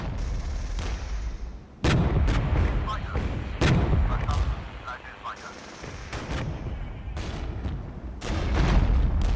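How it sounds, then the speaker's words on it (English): An artillery strike is called in during a tank battle in the game Regiments. Heavy booming shell impacts land several times in a row over a steady rumble of battle noise, loud and close, with a voice speaking between them. "Let's call in artillery."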